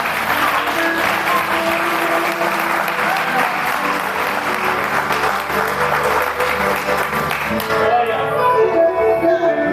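A church congregation applauds during an evening service: dense, sustained clapping from a large crowd fills the whole stretch, loud and steady, thinning slightly near the end.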